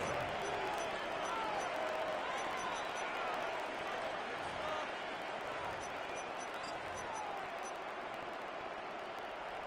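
Steady stadium crowd roar from a Madden football video game, a dense, continuous wash of cheering and murmur that stays loud and even throughout, with no voices standing out.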